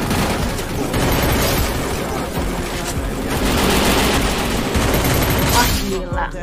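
Dense, continuous gunfire from the Free Fire video game, a loud unbroken fusillade of rapid shots and bursts filling the whole stretch, with no voice over it.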